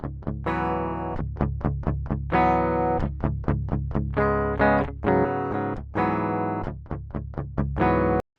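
A dry DI signal from an electric guitar fitted with Black Winter pickups plays a chugging riff of short, choppy notes and a few held chords in a steady rhythm, heard alone without talk.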